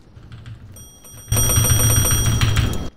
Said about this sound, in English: I'm gonna break the bell first.